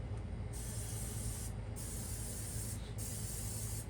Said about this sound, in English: gonna just spray the pan so it make it easier for the cheesecakes to pop out when they're done